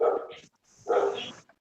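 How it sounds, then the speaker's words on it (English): A dog barks twice, with two loud, close woofs separated by a short pause and a faint whine-like tail after the second. "All I hear is your dog."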